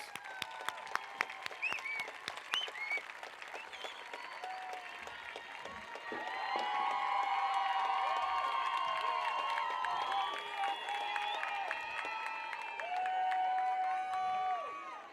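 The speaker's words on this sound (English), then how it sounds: "Let's give them a big round of applause." A graduation audience at a high school ceremony applauds families, starting with scattered claps and building into sustained, dense applause with some cheering that carries on for several seconds.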